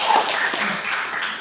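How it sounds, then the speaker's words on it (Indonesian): Classroom applause for a student, a short, moderately loud burst of clapping from a group, heard alone. "Tepuk tangan dulu buat Najwa Sabila."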